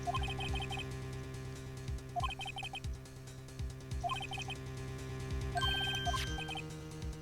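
A phone rings in Phoenix Wright: Ace Attorney, a looping electronic ringtone in repeated bursts of beeping tones over steady background game music, with no talk.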